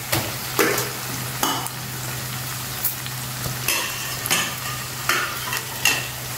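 Onions frying in a pan with sharp, rhythmic stirring scrapes recurring about once a second over a steady close sizzle; no voices.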